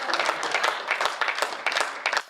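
Audience clapping at a Hindi comedy poetry gathering, a burst of scattered hand claps in uneven clusters, moderately close and sustained across the moment.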